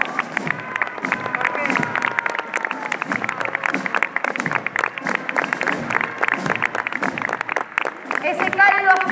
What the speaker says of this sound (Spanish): Ese cálido aplauso de aquellos que se han acercado a este lugar.